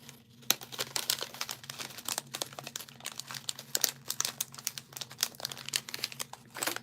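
A corner of a paper card being cut, a quiet stream of fast crisp snips and crinkles close by, steady for several seconds with no talking.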